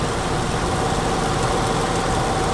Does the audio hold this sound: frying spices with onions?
no